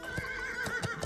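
A horse in a video game neighs in a clear, sustained whinny, with faint hoof clip-clops sounding beneath it and no talking.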